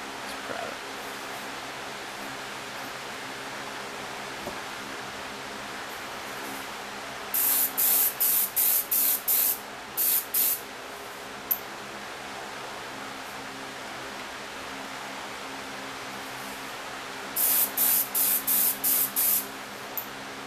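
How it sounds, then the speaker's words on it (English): A spray gun laying down wet coats of paint on a custom piece, two bursts of sustained hissing spray made of several short passes each, loud and close, with quiet room background between them. "spray it, fairly wet, but not enough to where it's going to run and leave drips at your edges"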